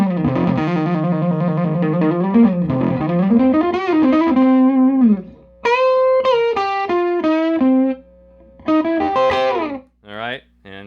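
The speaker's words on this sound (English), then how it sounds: "my guitar would be all the way up and I'm going into this 56 Tremolux amplifier" Electric guitar played loud through a 1956 Fender Tremolux amplifier, giving a distorted, sustained lead with bends, held notes and short staccato phrases, close and solo.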